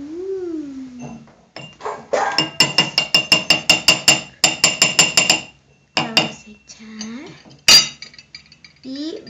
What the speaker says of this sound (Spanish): esta espuma va subiendo y con la cuchara vas a ir revolviendo para que suba más